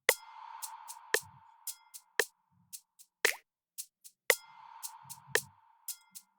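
A worship music loop plays back with sparse plucky, dripping percussive hits and bright clicks, with a soft sustained tone swelling in twice, clean and fairly quiet with no talking.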